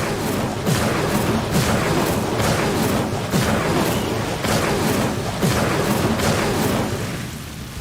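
Repeated blasts of the Incendio fire spell in the Hogwarts Legacy video game, a dense, loud stream of crackling, booming bursts pulsing roughly every half second over a continuous roaring wash, with no talk.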